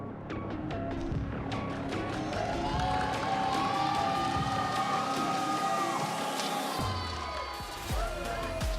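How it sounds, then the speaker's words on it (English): Crowd at the Esports World Cup 2024 applauds and cheers as a team is welcomed onto the stage, a steady wash of clapping and shouting heard from within the arena, with booming stage music and effects running through it. "Please give a round of applause for Twisted Minds."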